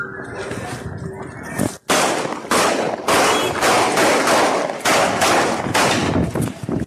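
A loud burst of sharp cracks, several shots fired in quick succession, ringing out over a noisy background with bursts recurring every second or so.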